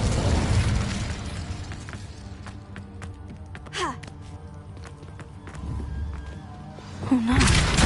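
A fire spell cast in a Harry Potter video game bursts out with a swelling whoosh and rumble near the end, over a dense bed of game music and ambient effects, with earlier sweeping magical tones.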